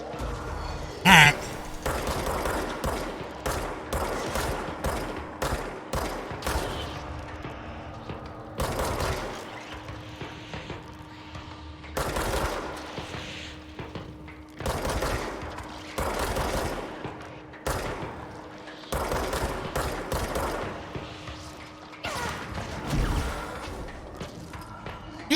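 Rapid bursts of gunfire from a video game, volleys of shots recurring in clusters throughout, loud and close with a steady background hum.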